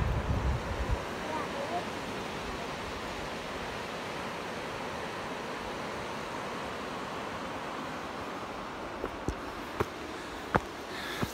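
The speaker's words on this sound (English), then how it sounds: "It's a good beach down here." Steady wash of waves breaking on a chalk beach, a continuous broadband roar with some wind buffeting, and a few faint clicks near the end.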